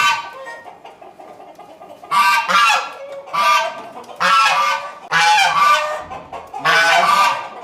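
A live goose honks in loud, harsh bursts, four or five repeated calls after a quieter stretch of faint clucking, close by with no talking.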